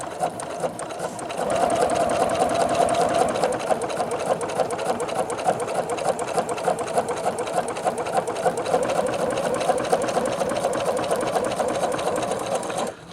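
A Singer Futura XL 550 sewing machine with a size 20 needle stitches through four layers of faux leather, its motor humming with a steady rapid needle clatter close by for over ten seconds after a short quiet start.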